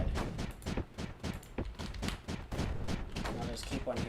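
Mortar fire in the sci-fi video game Space Crew: a rapid string of thumping impacts and bursts repeating steadily and loudly throughout, with a dense layered low-end rumble.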